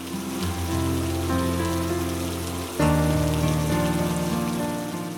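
Steady monsoon rain falls in rural countryside, a continuous soft hiss that stays even throughout, blended with sustained tonal music and swelling slightly louder partway through.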